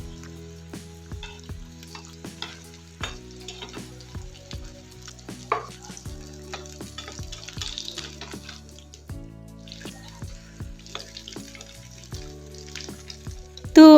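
Chicken snacks deep frying in hot oil over medium heat, a steady crackling sizzle with scattered pops and occasional stirring clinks, close and continuous with no talking.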